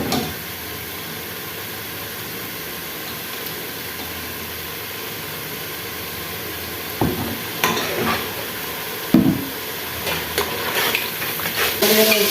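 Oil sizzles and fries steadily in a pan with melted tomatoes for a potato and green pea curry, a loud continuous hiss broken by a few spoon stirs and scrapes toward the end.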